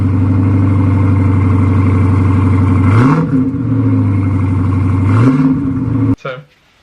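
A Dodge Charger V8 engine burbles at idle, then revs sharply twice with rising exhaust roars before cutting off abruptly.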